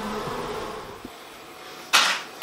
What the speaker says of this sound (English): You can see the bees going crazy for it.